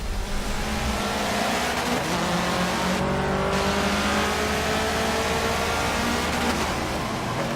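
A loud, sustained racing-car engine roar in the game Forza Motorsport 7, revving and accelerating steadily with a broad, gritty tone and no talking.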